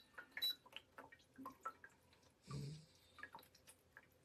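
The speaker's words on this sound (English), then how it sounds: "It makes bubbling sounds." An Akeshan 9-liter ultrasonic cool-mist bedroom humidifier, switched on with its water below the max line, gives off faint, irregular bubbling and dripping gurgles with soft clicks, one slightly fuller gurgle in the middle.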